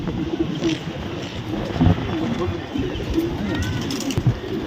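Soft coos from a pigeon with paralysis repeat under someone talking nearby, with some background noise throughout.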